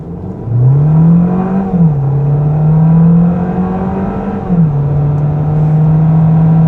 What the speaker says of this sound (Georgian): მოდი გავზომოთ აბა 0-დან 100-მდე აჩქარება